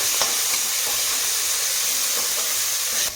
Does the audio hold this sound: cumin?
yes